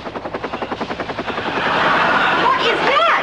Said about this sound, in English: Daddy's chopper, he's here.